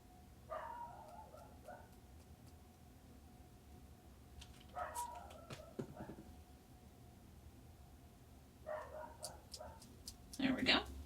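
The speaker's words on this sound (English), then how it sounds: "If you can hear the dog barking" A dog barks in a few short bursts from a little distance, with quiet talk underneath and pauses of near silence between.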